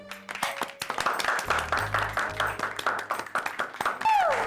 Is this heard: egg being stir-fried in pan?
no